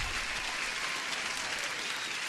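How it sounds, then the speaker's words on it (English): A short recorded applause sound effect plays as a live stream alert, steady, even clapping with no talk over it. "Applause for Felix."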